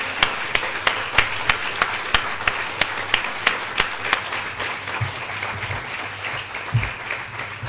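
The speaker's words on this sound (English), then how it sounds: "So if you will please join me now in applauding these network members" A crowd at the 2011 Jeane J. Kirkpatrick Awards ceremony applauds honorees, with a background wash of clapping and a few sharp, evenly spaced claps ringing out over it.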